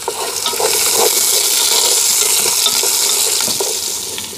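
Green chillies and onions sautéing for chicken in a pan over a wood-fired stove, giving a steady loud hiss and sizzle with occasional stirring scrapes throughout.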